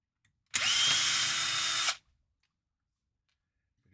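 A power drill whines for about one and a half seconds while taking screws out, loud and close, with a sharp start and stop and near silence on either side.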